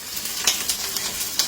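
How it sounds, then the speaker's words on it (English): Garlic and onions sizzle in a pan, a bright, steady hiss with a few sharper crackles and pops close by, heard alone without speech. "And let's do our onions in there. Oh yeah, love that sound, love that sound."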